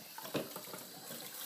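Tap water running into a kitchen sink while items are rinsed, a soft, steady hiss and splash with faint clinks, quiet and close, with no talk.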